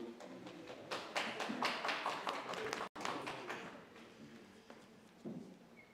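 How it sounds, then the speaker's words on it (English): An audience at a business summit gives a round of applause after standing in the rain, dense overlapping claps at moderate distance, swelling and thinning, briefly cut off mid-way and then resuming. "And give yourself a round of applause for braving the rain."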